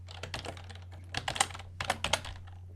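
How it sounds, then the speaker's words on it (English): Computer keyboard typing while a programmer codes a 2.5D platformer game, with soft, quiet keystrokes arriving in short irregular bursts separated by brief pauses, heard alone without talk. "Just type normal, Zoe."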